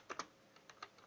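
Quick keystrokes on a computer keyboard, a handful of soft, irregular clicks tapped out alone at low volume with no voices.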